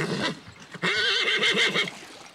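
A horse neighs twice, a short whinny followed by a longer, wavering one, close and clear with little else around it.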